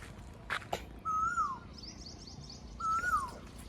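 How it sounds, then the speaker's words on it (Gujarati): An Asian koel sings from a peepal tree on the way to a temple, two rising whistled calls a couple of seconds apart over quiet outdoor background, with faint other birds chirping. "કોયલ બોલાય. કોયલ મસ્ત કોયલ બોલી જો."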